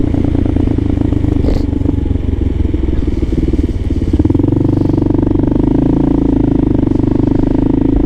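A Kawasaki KLR650 motorcycle rides through New York City streets, its engine a loud, close, throbbing thump that rises in pitch as it accelerates, with road clatter and wind noise around it.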